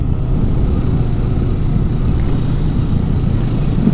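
A motorcycle, either a Kawasaki Vulcan S or a Honda CMX 500 Rebel, rounds a roundabout in second gear, its engine a loud, steady low drone mixed with heavy wind rush throughout.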